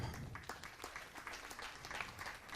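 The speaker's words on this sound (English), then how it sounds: "she gets two-time applause" Audience applause at a women's 10m air rifle standing shooting final, a steady wash of many hands clapping at moderate distance, continuous throughout with no clear voices.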